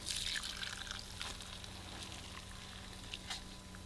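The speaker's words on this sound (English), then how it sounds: "pour this straight into the bowl" Cooked instant noodles and broth are poured into a bowl, giving a steady close wash of splashing liquid with a few brief splats and drips throughout.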